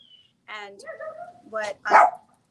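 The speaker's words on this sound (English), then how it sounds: "we've got an extra dog today. We have a foster with us, so there's extra barking." A foster dog indoors gives a few short, whiny yips and barks in quick succession, close and fairly loud, with the last one the strongest and silence around them.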